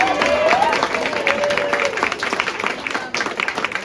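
Crowd applause inside the Captain's Pub in Twillingate, Newfoundland, for people taking part in a screech-in ceremony: dense, steady clapping with a voice briefly heard over it.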